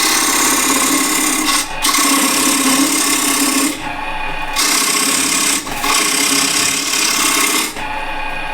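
A refiner tool cuts dense, dry wood spinning on a lathe, giving a steady, loud scraping rasp with a low hum underneath that briefly drops out three times as the tool lifts off, no talking.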